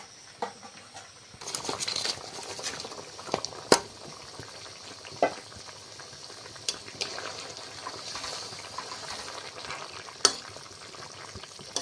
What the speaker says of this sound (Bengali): দেখো ভেজে রাখা মাথাগুলো দিয়ে দিচ্ছি এবার